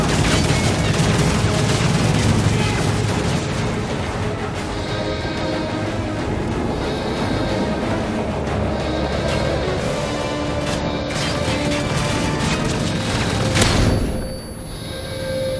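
Incoming missiles exploding in a drone combat scene, a long loud rumbling wash of booms and blasts with a stronger burst near the end before it eases.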